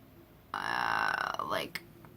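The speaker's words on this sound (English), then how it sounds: "I have a burp stuck in my throat" A single loud, close burp lasts over a second and rises at the end, standing alone without talking.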